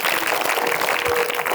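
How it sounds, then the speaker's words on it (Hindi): Schoolchildren at a small village school in India clap for a classmate, a short burst of dense, steady applause filling the room at close range. "तालियां बजाओ"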